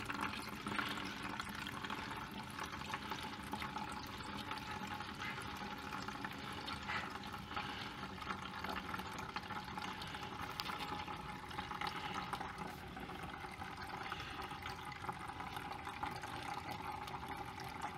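Antifreeze drains from the radiator of a Kubota B7001 tractor into a container, a steady, quiet trickling and splashing of liquid that runs unbroken for the whole stretch, with no talk.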